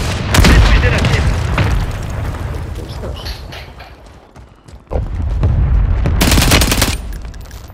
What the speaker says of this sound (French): Un allié a demandé une frappe de mortier.